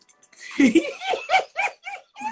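A dog barks in a quick run of short, sharp yaps and bow-wows, fairly close in a room, with people's voices laughing and exclaiming around it.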